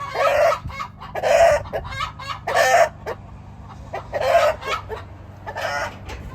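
A hen cackles loudly after laying an egg, in repeated rhythmic bursts, close by, with brief pauses between each run of squawks.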